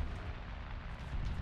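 Tank cannon shot in the video game War Thunder, fired from an AMX-10 ACRA tank destroyer: a deep, heavy boom with a rumbling low-end tail that stays loud and dense throughout.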